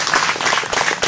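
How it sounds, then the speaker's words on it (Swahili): An audience at an official government ceremony applauds its leaders, a brief burst of dense, even clapping from many hands heard at moderate distance with no voices over it. "Naomba tuwapigie makofi viongozi."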